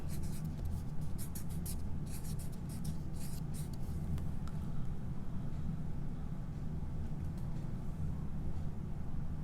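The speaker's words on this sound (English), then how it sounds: "go ahead at the bottom corner, write your name" A pen scratches across paper while a name is written, a run of short close scratchy strokes early on that fade into low rumbling background noise.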